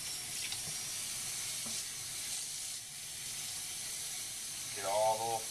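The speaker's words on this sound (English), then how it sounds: "Okay, and I run water over it." Water running over a reef aquarium algae scrubber screen during cleaning, a steady close splashing hiss that continues throughout, with a voice starting near the end.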